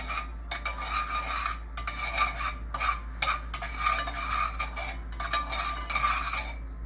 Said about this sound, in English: Get a spoon. We're gonna mix this back in.